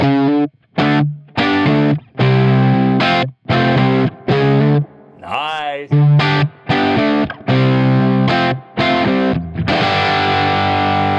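Electric guitar plays through a Dumble-style amp with spring reverb, clean and full, in a series of loud strummed and picked chords with short gaps and a bent-note flourish midway; a voice briefly speaks.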